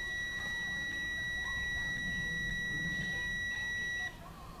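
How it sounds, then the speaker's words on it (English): A Poletap SmartRod fishing rod bite alarm emits a steady, continuous high-pitched electronic beep for about four seconds, loud and close, then cuts off abruptly. "The SmartRod takes 3 seconds to reset for another bite after it alarms"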